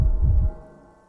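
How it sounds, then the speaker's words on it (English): A pounding heartbeat effect from the video game Disco Elysium: a few heavy, low thumps close up and loud, then fading into a low hum, with no talking. "your little heart pounding like a bird in a cage"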